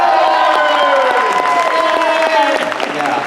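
Convention crowd at Nostalgia Con Anaheim applauding and cheering in a voting call, loud and dense clapping with whoops and shouts filling the room throughout.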